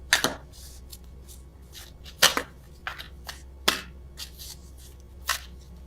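Several crisp riffling bursts of tarot cards being shuffled, spaced irregularly and close by, with quiet pauses between them.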